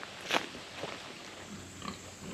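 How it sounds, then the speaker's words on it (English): Pigs grunt out in the woods on a historic plantation, giving a few short, low snorts and grunts at a distance against a quiet outdoor hiss. "you could hear the pigs grunting back there"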